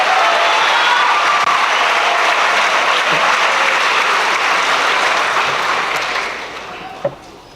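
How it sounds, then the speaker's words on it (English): At a Hawaii National Guard Youth Challenge Academy graduation ceremony, a large audience claps in a full, sustained wave that fades out toward the end, followed by a single sharp knock. "let's give them all a round of applause for their commitment to serving our country"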